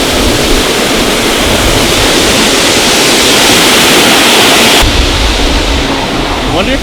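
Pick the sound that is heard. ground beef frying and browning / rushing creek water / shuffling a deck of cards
rushing creek water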